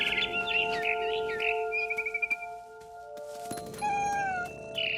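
A cat meows in What Remains of Edith Finch, mixed with quick high bird chirps early on and a short cry near the end, all over sustained soft musical tones.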